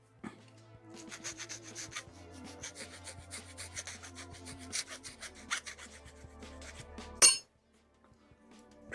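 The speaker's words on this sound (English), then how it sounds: "trim those nubs" Small scraping, rasping cuts as gate nubs are trimmed off plastic parts of a Bandai Figure-rise Standard Krillin model kit, a steady run of close, light rubbing strokes ending in one sharp louder click.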